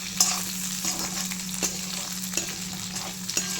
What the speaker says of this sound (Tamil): இந்த எண்ணெயிலேயே கத்திரிக்காய் நல்லா ஃப்ரை ஆகும்.